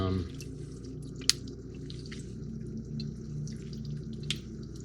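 Water dripping where plastic model kit parts soak in hot soapy water, a couple of sharp isolated drips over a low steady background hum.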